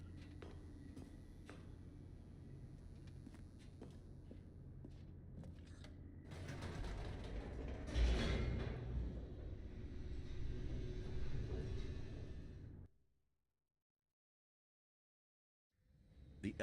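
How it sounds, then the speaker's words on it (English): An elevator in the video game The Stanley Parable descends with mechanical creaks and a low rumbling hum that swells midway, runs steadily, then cuts off abruptly into silence. "The elevator raced downward"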